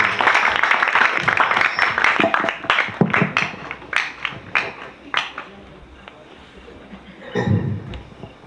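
Applause from a youth discussion audience, a dense run of claps that thins out, with a voice coming in near the end.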